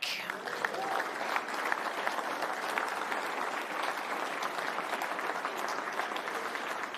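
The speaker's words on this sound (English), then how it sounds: "let us have a round of applause for Ruminant Biotech" An audience applauds warmly at an innovation awards evening, a steady crackle of many hands clapping at once that holds at an even level for several seconds.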